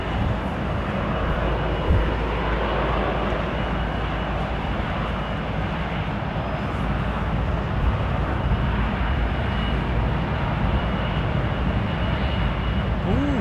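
A TAP airliner in retro livery taxiing out at London Heathrow Airport gives a steady, even engine roar and rumble that holds at one level throughout, with no clear break or peak.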